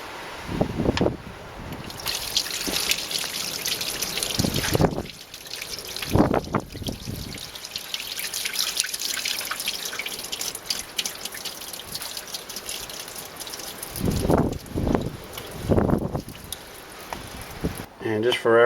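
Water trickles and drips from a drain plug on the V drive of a PCM EX343 marine engine being winterized, a steady close splatter with a voice talking at times.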